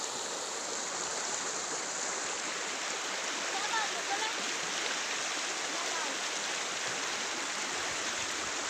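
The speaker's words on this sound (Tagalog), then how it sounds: "yung ilog is konti na lang yung kanyang daloy ng tubig" A river running low in the Philippine countryside, its shallow flow making a steady, dense rush of water that stays even and close throughout.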